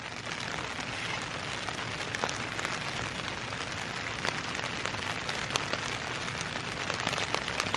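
Rain patters steadily on a surface in the Scottish Highlands along the Cape Wrath Trail, a constant, even hiss with scattered distinct drops and no talking.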